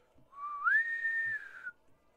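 A person whistles in imitation of a bosun's whistle: a single rising tone that slides up and holds a steady high pitch for about a second, then fades, fairly quiet and alone.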